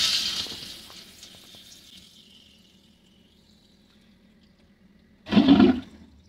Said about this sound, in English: This unit has a Tiffin electric toilet with a macerator, so we'll run it several times to make sure that the macerator has plenty of antifreeze in the system